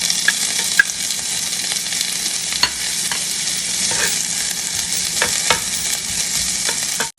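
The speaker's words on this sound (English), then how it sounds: "for right now, we just want to brown our sausages" Sausages browning in a tablespoon of oil in a skillet, a loud, dense, continuous sizzle with occasional sharp pops and spits, no talking.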